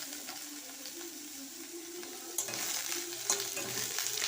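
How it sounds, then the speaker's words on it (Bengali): Soybean chunks frying in oil in a home kitchen: a steady sizzle with a few louder crackles and stirring scrapes, close up and with no talking. "এবার সোয়াবিনগুলোকে একটু ভেজে নেব"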